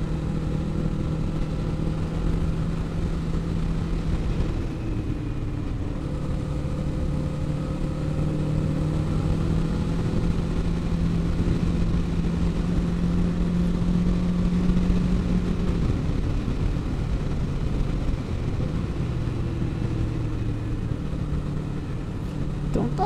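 A Kawasaki Eliminator 500 motorcycle carrying a passenger rumbles steadily while riding through gentle curves, its engine drone rising and falling slightly in pitch with throttle changes amid wind noise, and no one speaking.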